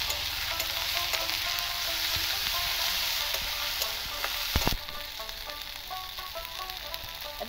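Tengra fish and spices frying in oil, a loud continuous sizzle with crackling spatters and occasional stirring scrapes, close up and without talk.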